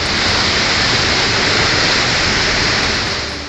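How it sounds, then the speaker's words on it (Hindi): Monsoon floodwater rushes through a market street in Kotdwar, Pauri Garhwal, Uttarakhand, after torrential rain, a loud, steady roar of churning water that fills the whole stretch without a break. "पूरे बाजार में बहुत रफ्तार के साथ पानी घुस आया।"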